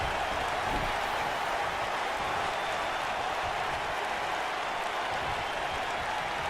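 A wrestling arena crowd roars in the WWE 2K19 video game during a Monday Night RAW match, a dense and unbroken wash of cheering that holds steady throughout with no voices standing out.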